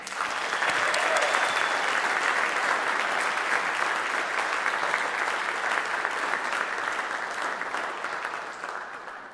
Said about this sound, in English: please give all of our awardees just one more round of applause